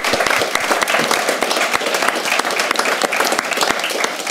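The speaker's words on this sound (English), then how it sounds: "should we give our panel a massive round of applause?" A conference audience applauds a panel on school retrofit, with dense, steady clapping from many hands that stays loud and even throughout.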